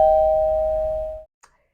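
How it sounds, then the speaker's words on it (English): A single doorbell chime rings out clearly and decays over about a second, followed by a faint tap, with no voices. "My doorbell rings."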